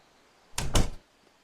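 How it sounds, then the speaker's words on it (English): A cupboard door opens with two quick, close thumping knocks and a short rattle in an otherwise quiet room. "Wilbur opened the bat cupboard door."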